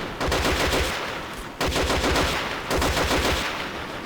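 A mobile machine gun platform in the Men of War: Assault Squad 2 multiplayer battle fires long, loud, rapid bursts of machine gun fire in three sustained volleys with brief breaks, heard close and without talk.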